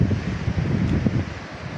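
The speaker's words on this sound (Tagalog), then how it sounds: "ang mga lagiswis ng hangin na humahampas sa mga punong kahoy dito" Wind blowing through trees on a farm near Sackville North, New South Wales, a continuous close rushing roar with gusty rumble buffeting the microphone, heard alone without voices.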